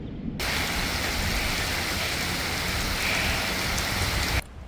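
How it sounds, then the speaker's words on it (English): Steady heavy rain falling in Marina, Chiapas, a dense continuous hiss of drops on surfaces, close and loud, starting and stopping abruptly with no voices. "This time of year you can expect rain on any given day in the late afternoon and evening in Marina, Chiapas, from a light sprinkle to an all-out deluge."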